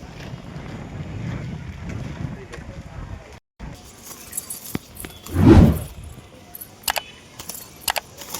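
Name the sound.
strong wind blowing outdoors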